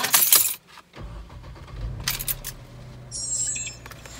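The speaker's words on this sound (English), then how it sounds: "Now with everything installed, I'm going to start the car." A Mercedes fitted with a throttle pedal controller starts up: a sharp jangle and click at first, then the engine catches and settles into a low steady idle, with a brief electronic chime near the end.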